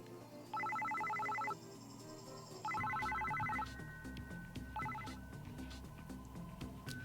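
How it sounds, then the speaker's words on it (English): A cell phone rings in the video game Psycho-Pass: Mandatory Happiness: three bursts of a trilling electronic ringtone, the last one short, fairly prominent over steady background music. "Suddenly, it seemed like Shiori's cell phone started ringing."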